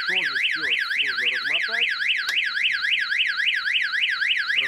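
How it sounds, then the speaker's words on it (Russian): A simple break-wire anti-theft alarm for a boat and its motors wails loudly and continuously in a fast, rapidly repeating up-and-down warble, with someone talking over its first two seconds. "Эта сигнализация, значит, вот самая простая."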